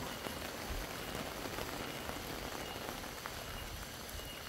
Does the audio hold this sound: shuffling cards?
no